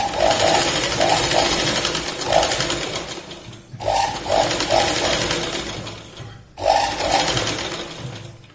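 A sewing machine stitches a katori blouse in three close bursts of steady whirring, separated by short stops. A soft voice can be heard faintly underneath.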